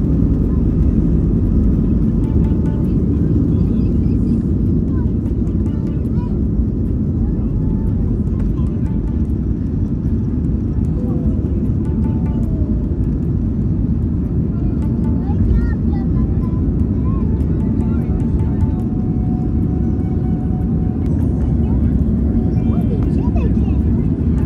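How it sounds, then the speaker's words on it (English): Steady, loud low roar of an airplane cabin in flight, an unbroken drone lasting the whole stretch, with faint murmuring voices beneath it. "we are in the plane and the flight gonna be 1 hour and 20 minutes."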